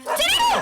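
A pet dog named Jackie in a Tamil movie scene gives a short, high-pitched yelping bark, close and loud, lasting under a second with no talk over it.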